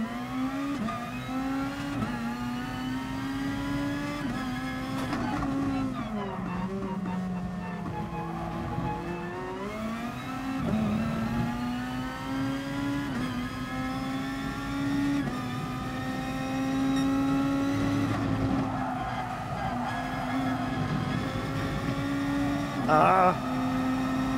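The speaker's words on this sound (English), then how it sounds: "I mustn't be revving this hard enough." Race car engine in the video game GT Sport holds a high, steady rev for the whole stretch, its pitch rising and dipping with throttle and gear changes, with a brief tire squeal near the end.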